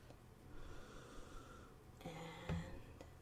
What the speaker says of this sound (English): And sniff.